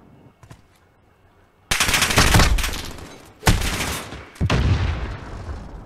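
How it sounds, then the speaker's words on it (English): MP5 submachine gun fire in a competitive video game match, loud close bursts of rapid automatic shots in three stretches separated by short pauses, with no talking over it. "he's pulling out the MP5"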